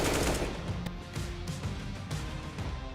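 Gunfire rings out in a competitive shooter video game match at the ESL Impact finals in Dallas: a quick series of sharp shots and bursts over a steady background noise.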